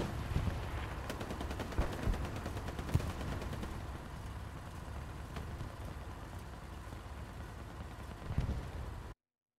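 Gunfire in the World War II shooter Hell Let Loose during a winter competitive match: scattered shots and bursts crackle through a constant rumbling battle backdrop, with a few sharper near cracks standing out.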